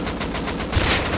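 A burst of rapid gunfire from a firearm in the survival game Rust, shots aimed at a vehicle's driver, a loud dense rattle of quick repeated reports filling the whole moment.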